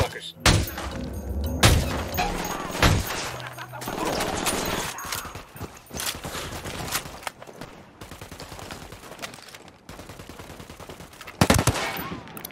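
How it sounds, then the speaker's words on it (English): Gunfire from Ghost Recon Wildlands: loud bursts of automatic fire and single shots, with heavy impacts near the start and a final burst near the end, mixed with game sounds and a speaking voice. "I'm shooting these fuckers"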